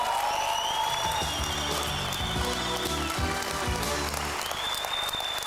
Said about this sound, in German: Kriegt einen riesen Applaus.